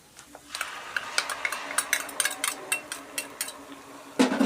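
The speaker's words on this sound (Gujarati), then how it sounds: "તો હવે આપણે એમાં નાખી દઈશું આ ટમેટાની પ્યુરી" Tomato puree added to onion, ginger and chili masala frying in a pan for sev and onion curry, with a soft sizzle under repeated spoon scrapes and clinks, then a louder splash of sizzling near the end.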